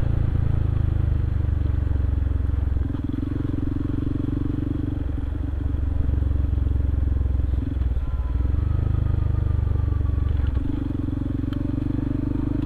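Steady motorcycle engine drone close by, rumbling continuously as the bike rides along, with some rattling and faint wind noise.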